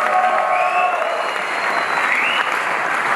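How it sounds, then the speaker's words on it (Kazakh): An audience at a KVN comedy contest gives the Almaz team sustained, dense applause, loud and close, with a faint tonal sound gliding above the clapping. "Алмаз командасына қол шапалақлар қоямыз"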